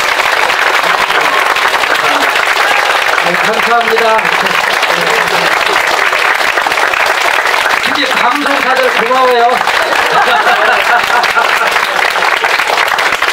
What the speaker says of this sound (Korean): 뜨거운 박수 다시